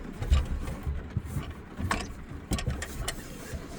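A heavy-duty anti-theft lock is worked around a car's steering wheel, giving close, irregular metallic clunks, rattles and ratcheting knocks in short bursts with no talking.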